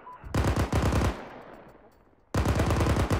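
Bursts of automatic machine gun fire in the military simulation game Arma, two loud sustained strings of rapid shots separated by a fading echoing tail, close and dominant with no talking.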